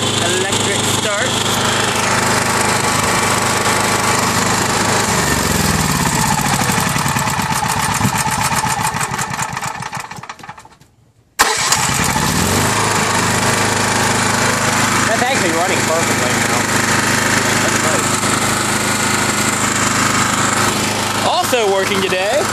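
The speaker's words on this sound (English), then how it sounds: "That generator. Also working." A welder-generator with electric start runs steadily at a loud idle and keeps a constant engine drone. It cuts out briefly near the middle, then comes straight back running as before.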